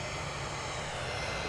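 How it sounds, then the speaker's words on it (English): An EasyJet Boeing 737-800 airliner passes at Manchester Airport, its engines a steady, broad roar that holds at an even level throughout. "Flight 763 on its way to Lanzarote. Boeing 737 Series 800."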